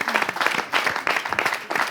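A crowd at an event claps in brief uneven bursts, close and fairly loud, over a couple of seconds.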